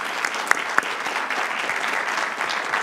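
A crowd at a school board meeting applauds with brisk, dense clapping, a couple of sharp, louder claps standing out near the start, no voices.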